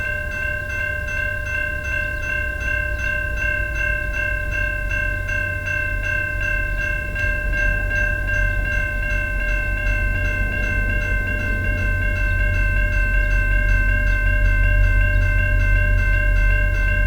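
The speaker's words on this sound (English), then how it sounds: "Here comes another train" A VIA Rail passenger train led by an F40PH locomotive passes at close range, with a steady loud rumble and sustained horn-like tones that swell toward the end.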